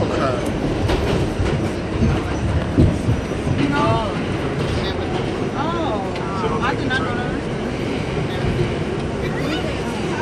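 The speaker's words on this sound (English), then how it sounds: "I haven't been on a train in like a year and a half. Yeah. On a New York City train." Interior of a moving New York City subway train: continuous loud rumble with rhythmic clickety-clack and squealing wheel tones, with people talking nearby throughout.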